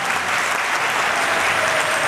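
A theatre audience in Pokhara gives loud, dense applause as artists come onto the stage for a musical concert, a steady, sustained roar of clapping throughout.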